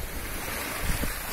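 Ocean waves wash in a continuous, close, hissing surge with a soft rumbling swell near the end, heard alone without any voices.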